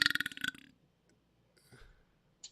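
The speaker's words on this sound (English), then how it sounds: "I burp on stream." A loud burst of burping from a streamer opens the clip, several rapid pulsing eructations over about half a second, followed by faint rustles and small clicks.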